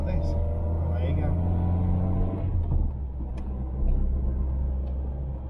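A car towing a caravan moves down a narrow country lane, heard as a continuous close engine rumble with a low drone, softening slightly partway through.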